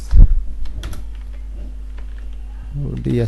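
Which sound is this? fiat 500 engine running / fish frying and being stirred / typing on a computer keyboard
typing on a computer keyboard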